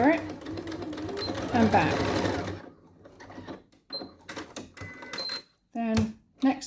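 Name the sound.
sewing machine stitching a skirt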